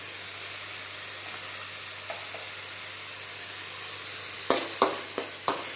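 Tomatoes with salt and turmeric sizzle steadily as they fry in a pan for okra curry, then a few sharp scraping clatters of a spoon stirring close by near the end.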